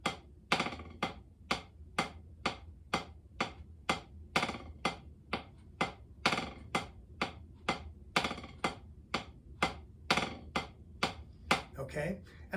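Drum buzz strokes are played as long connected buzzes, about two per second in an even, close, crisp series, each sustained press-roll fading before the next.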